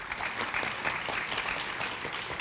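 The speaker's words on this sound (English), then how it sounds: "A big round of applause to her." An audience at a Bharatanatyam arangetram dance performance applauds, producing a dense, even wash of many hands clapping at moderate loudness, continuous from start to finish with no talk over it.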